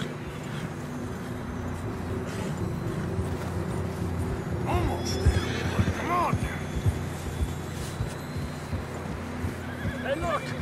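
Horses in the video game Red Dead Redemption 2 neigh and whinny with clip-clopping hooves, over a low hum as riders move along a trail, the calls rising clearly midway.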